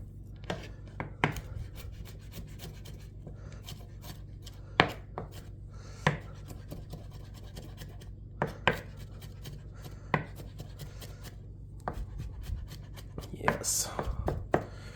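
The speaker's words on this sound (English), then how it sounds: "Now that I have minced my garlic all the way down after chasing my cutting board everywhere." A knife minces garlic on a cutting board in a home kitchen, with rapid, irregular close taps and scrapes over a steady low hum.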